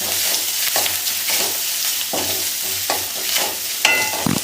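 Steady scraping and stirring of sizzling ingredients in a frying pan while making a cabbage stir fry (thoran), with repeated spatula strokes every second or so, close and fairly loud.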